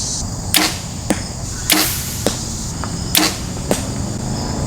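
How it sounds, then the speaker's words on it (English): Arrows shot from a compound bow while sighting in at about 30 yards, six sharp thwacks into a target spaced roughly a second apart, close and loud over quiet outdoor background with no talking. "Sound like a freaking arrow."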